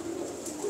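A fancy pigeon from a breeder's flock gives a brief, soft coo, close and low, with no voices over it.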